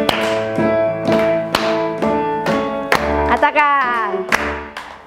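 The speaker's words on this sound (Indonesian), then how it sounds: "Tepuk tangan dulu yuk." Children at a church kids' worship service clap their hands in a quick rhythmic series of sharp claps over held sung tones, with a brief spoken word near the start.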